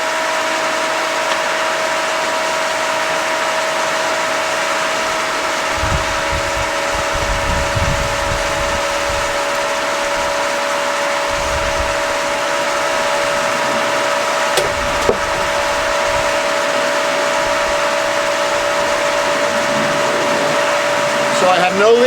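A pool filter pump runs steadily under pressure, giving a constant mechanical hum with a strong tonal whine throughout, plus a few low thumps and handling noises partway through.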